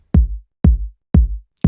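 Three short layered kick drum hits about half a second apart, each a punchy attack with a boomy tail that cancels partway through from phasing and loses low end, played dry without any voices.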